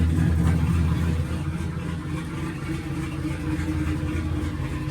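A Ford Mustang 3V engine, fitted with a swapped 6R80 transmission, idles with a steady low rumble, close and continuous for several seconds with small fluctuations and no talking.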